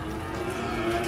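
A cow unloading from a truck gives a low, sustained moo with a steady tonal drone, fairly faint with background noise.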